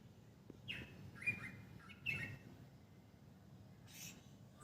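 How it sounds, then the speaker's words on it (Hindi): Birds chirp in a quiet early morning at a newly rented house, a few faint, sparse tweets and short calls scattered over soft background hush, with no talking. "बिल्कुल शांत और सिर्फ चिड़ियों की चहचहाहट"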